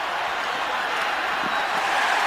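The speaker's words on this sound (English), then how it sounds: "Crowd in full throat" A football stadium crowd at an Atlanta Falcons at Pittsburgh Steelers game roars loudly and steadily on a third down, a dense, continuous wall of cheering with no breaks.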